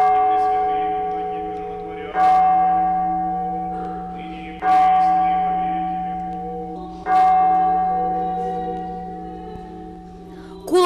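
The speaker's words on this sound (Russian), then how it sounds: "Колокол сегодня звонит по Ангелине Торбеевой." A church bell in Norilsk tolls slowly for a funeral, four loud, ringing strikes spaced about two and a half seconds apart, each leaving a long humming decay, with no voices over it.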